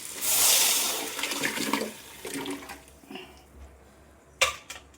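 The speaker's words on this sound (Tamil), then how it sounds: "இப்போ நம்ம வந்து கரைச்சி வச்சுருக்க புளி கரைச்சி வந்து இதில் ஊற்றிக்கலாம்." Dissolved tamarind water pours into a pot of curry, a close splashing gush that fades out, followed by a few clinks of utensils against the pot.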